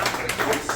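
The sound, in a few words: audience applause at an improv show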